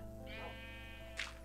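Sheep in a block-building video game: two short, faint bleats, the first a wavering cry and the second a brief higher burst, over a quiet steady background hum with no talk.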